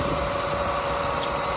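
A 2004 Toyota Sienna LE minivan's 3MZ engine, with 232,900 miles on it, idles after a cold start, giving a steady, even hum with a constant whine and no change over the short stretch.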